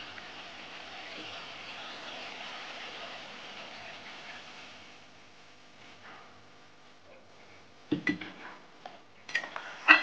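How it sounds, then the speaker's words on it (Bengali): A spatula stirs soaked spice paste with turmeric in a cooking pan for a Bengali fish curry, a soft sizzle fading and then clinking scrapes against the metal near the end. "কিছুক্ষণ নেড়ে চেড়ে এবার জল দিয়ে দেবো"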